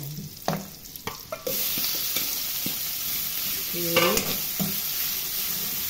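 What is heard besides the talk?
marinated pork frying and being stirred with garlic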